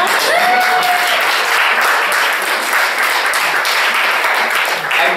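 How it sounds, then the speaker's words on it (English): Audience applause for readers at a Speakeasy literary reading event, a dense, steady wash of many hands clapping at close range, sustained loudly throughout with a faint voice briefly audible early on. "And one more round of applause for all of our readers today."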